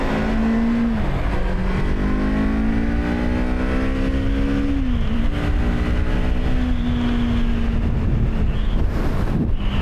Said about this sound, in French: Petite accélération.